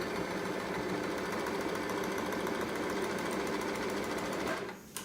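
A sewing machine stitches a cushion cover in a loud, steady mechanical whir that runs without pause for almost five seconds, then stops abruptly near the end.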